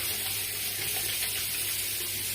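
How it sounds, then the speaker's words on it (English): Steady running water from a bathroom sink faucet while someone washes their face, a continuous close splashing hiss with no talking. "I'm gonna wash my face and I'm gonna use my face soap"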